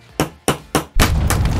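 A toy hammer strikes a Jurassic World amber dig block with several sharp, loud, close knocks in an uneven rhythm, the last blows running into a dense scraping clatter.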